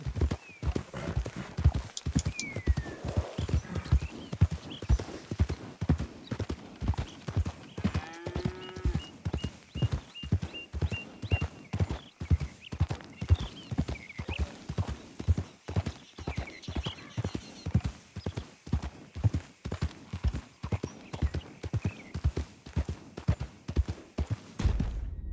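Galloping horse hooves in Red Dead Redemption 2, a steady rapid clip-clop that is loud and close and runs the whole stretch, with the occasional faint whinny and a few game sound effects over the top.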